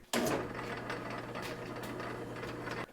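A lathe turns a Jeep CJ5 brake drum while the cross slide is hand-fed, giving a steady mechanical whir with a low hum and faint ticking clatter that starts abruptly and stops near the end, with no talk.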